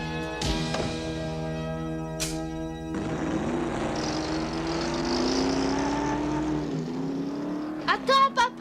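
A cartoon car starts up and drives off fast, its engine rising in a revving whine that sweeps away, with short voices breaking in near the end.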